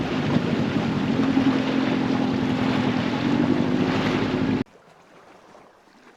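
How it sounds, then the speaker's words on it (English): Strong wind roars outdoors at a campsite, a loud broadband rush with microphone buffeting for about four and a half seconds before dropping abruptly to a faint breeze. "Now it's too windy"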